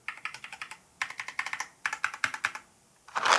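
Rapid bursts of typing on a mechanical keyboard with Cherry MX Red linear switches, clacks coming in quick clusters separated by short pauses, close and clear.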